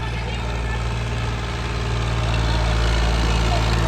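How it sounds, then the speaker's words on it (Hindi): A 50 HP Powertrac tractor engine idles steadily in a village, a loud continuous low rumble with a constant hum, close by and unbroken throughout. "पावर ट्रैक आ रहा है अब।"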